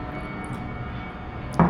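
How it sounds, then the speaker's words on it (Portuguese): An airplane passing overhead, a low steady droning rumble heard from a distance, followed by a short sharp knock at the end. "Vamos esperar o avião passar?"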